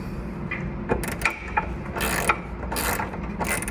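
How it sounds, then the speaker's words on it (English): A ratchet tightens a nut and bolt on a fender bracket during a stretched CVO rear end kit install, its quick close clicking coming in short bursts against a steady background hum. "You're going to snub up your nut and bolt."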